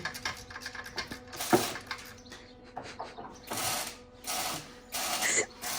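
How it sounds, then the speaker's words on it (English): A wrench works a bolt loose, quick ratcheting clicks and metallic mechanical rattles in uneven bursts, fairly faint and close, with a few louder scraping surges. "now to take off one bolt. I think I already had it almost out, so I just gotta loosen a little bit more"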